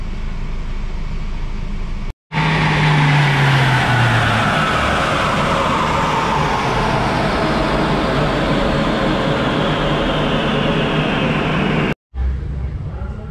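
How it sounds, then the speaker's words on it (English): A stock Ford Ranger Wildtrak 2.0 BiTurbo diesel pulls hard on a dyno: a loud, sustained engine roar climbs steadily in pitch over about ten seconds, then cuts off abruptly, with brief engine noise before and after. "We're gonna run the dyno test with the stock car now."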